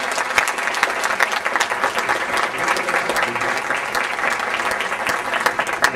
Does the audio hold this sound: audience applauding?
yes